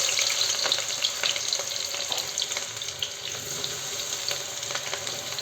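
Onion tipped into smoking-hot oil for Mumbai street-style pav bhaji, giving a steady bright sizzle and crackle of frying that holds throughout, close and fairly loud, with no talking.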